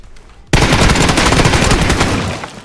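Rapid automatic gunfire in PUBG bursts in suddenly after a quiet moment, a loud sustained machine-gun stream of close shots that keeps going before trailing off slightly.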